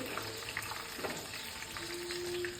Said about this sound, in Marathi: आता बारीक फ्लेमवर आपण ह्याला पाच ते सात मिनटं फ्राय करून घेऊ